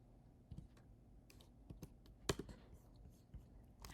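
Quiet, sparse keystrokes on a computer keyboard come as irregular soft clicks, with one sharper tap in the middle, over a faint room hush.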